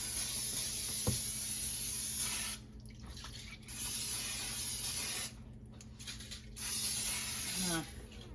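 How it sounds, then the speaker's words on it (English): Bursts of cooking spray hiss from an aerosol can into a crock pot, three long sprays separated by short pauses, close and loud with faint kitchen clatter between. "we're gonna spray your crock pot. We've got some cooking spray."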